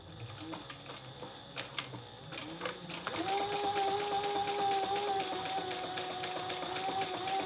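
A sewing machine stitches fabric in quick rapid clicks, first in short bursts, then settling into a steady whirring run with a tonal motor hum, close and fairly quiet.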